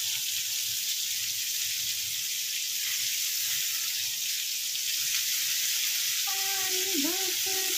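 Bombil (Bombay duck) fish frying in a pan, a steady loud sizzle of hot oil throughout, with a few faint clinks near the end as the pieces are turned.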